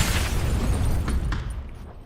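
Grenade explosion in the battle royale game PUBG, a loud booming blast with a dense rumbling tail that slowly fades over two seconds, heard alone.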